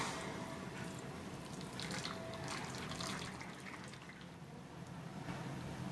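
Melted jaggery syrup pours through a filter in a kitchen while sesame laddu is being made, giving a soft, steady liquid trickle and splash up close with no talk.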